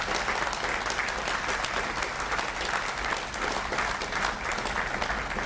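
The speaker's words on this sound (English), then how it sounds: "I'd like a round of applause to all the folks that have done a lot of hard work to put this ship together" Steady, dense applause from a large audience at a Navy ship christening ceremony for the future USS Little Rock, loud and continuous throughout with no break.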